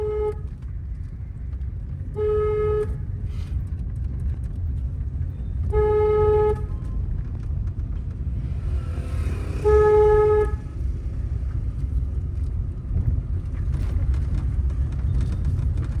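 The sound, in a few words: long car horn honk while driving in a narrow lane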